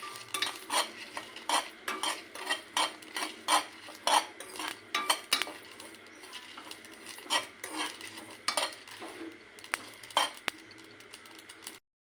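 Ingredients being stirred and fried in a pan with a metal utensil, a brisk, continuous run of scraping and clinking strokes over a faint sizzle, close and fairly loud, ending abruptly.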